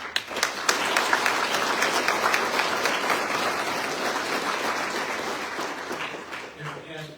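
A crowd applauds new firefighters at a fire department badge pinning ceremony, sustained clapping starting with a few sharp claps, then filling the room evenly before tapering off.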